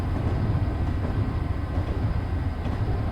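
Metro North train slowing into Stamford in Train Simulator 2019, a loud steady low rumble of wheels and motors with no talking.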